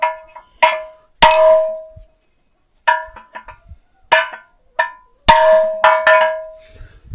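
Sharp, ringing metallic hammer blows on a steel shaft during MTZ tractor gearbox repair, struck one at a time in uneven bursts, each leaving a bright, sustained ring before fading.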